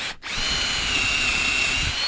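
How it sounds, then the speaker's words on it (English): Electric power drill boring 8mm holes into a wooden panel, a loud steady whirring grind that starts abruptly after a brief pause and holds constant to the end. "we're going to drill the 2 holes on the outside first of all, and these are 8mm holes"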